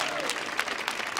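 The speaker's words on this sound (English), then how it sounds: "Can we do a big round of applause for Alexa Patrick, actually?" Crowd applause at a poetry performance on a concert stage, sustained dense clapping with a few whoops, loud and close, filling the whole short moment.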